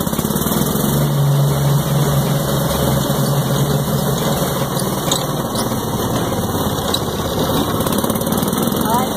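A vehicle engine hums steadily while the car creeps along slowly, a constant loud droning rumble with slight vibration throughout, and people talk faintly over it.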